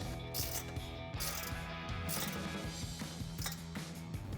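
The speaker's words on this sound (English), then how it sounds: "Use that 13mm ratcheting wrench, tighten up the side." A 13mm ratcheting wrench tightens a bolt on a Jeep Wrangler JL 3.6L V6 axle-back exhaust. Quiet, repeated ratchet clicks sound in short runs against a faint, steady background.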